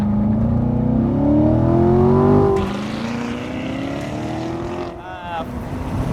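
A 2014 Corvette Stingray C7 Convertible launching hard, its engine note climbing steeply in pitch through the gears with a sharp shift break, loud and close from inside the car, a voice speaking briefly over it.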